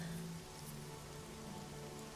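Rain falling steadily, a soft continuous patter of drops on surfaces heard faintly at a distance, with no voices.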